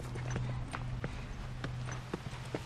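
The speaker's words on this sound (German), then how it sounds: "Ach, hier aber das Pferd." Hoofbeats of a horse clip-clopping in The Last of Us: Left Behind, a handful of sharp knocks spaced irregularly over a steady low game hum.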